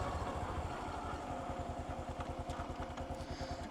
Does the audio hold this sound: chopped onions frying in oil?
no